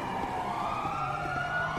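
A wailing emergency siren in the video game GTA 5 sounds continuously, fairly loud with a slowly gliding pitch, over faint background rumble.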